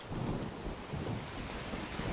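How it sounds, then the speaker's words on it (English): Heavy rain in the game Escape From Tarkov, a dense, steady roar of downpour with low rumbling, filling the whole moment without a break. "now that it's raining even louder"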